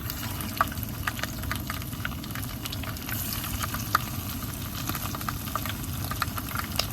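Chicken pieces for chicken kondattam fry in hot oil, giving a steady, dense crackle and sizzle with scattered sharper pops throughout, close by and with no talking.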